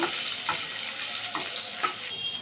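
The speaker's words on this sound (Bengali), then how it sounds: "আদা কুচিটা দিয়ে দেব, একটু নেড়ে চেড়ে নেব।" Chopped ginger sizzles and crackles in hot oil as it is stirred around a pan, with soft scraping strokes recurring through a steady close frying hiss.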